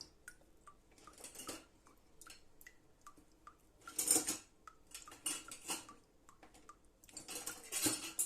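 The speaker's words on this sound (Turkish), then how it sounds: "Tuzu attıktan sonra karıştıralım arkadaşlar. Hemen bir kaşık yardımıyla" A metal spoon clinks and scrapes against a bowl while stirring salt into water, giving irregular bursts of light tapping and scraping, close and fairly quiet with short pauses between strokes, with no talking.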